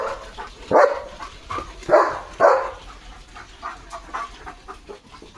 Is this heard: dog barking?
yes